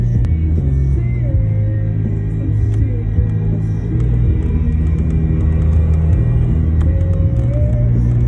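Porsche Boxster cars drive a parade lap on a race track, a steady low engine rumble and hum with faint tonal whines drifting in and out, continuous and moderately near.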